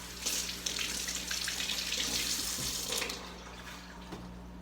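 Tap water runs into a sink to rinse a tomato, a steady close splashing stream that eases off slightly toward the end.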